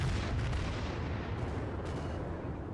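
Heavy naval guns fire in the World of Warships beta, a deep booming barrage with rolling low rumble, loud at first and slowly thinning as the echoes fade.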